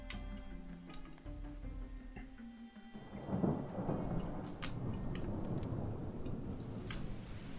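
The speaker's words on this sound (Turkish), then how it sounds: "dışarıda yağmur var gene" Rain and thunder in the zombie survival video game Project Zomboid: a faint ticking and tonal backdrop gives way to a low rolling thunder rumble and then steady hissing rainfall that continues to the end.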